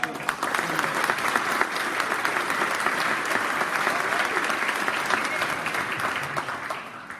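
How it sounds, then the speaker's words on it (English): A large crowd applauds at a 2018 expo dinner, dense and loud clapping that holds steady throughout and thins slightly at the very end. "Round of applause."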